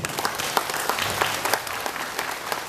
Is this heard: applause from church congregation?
yes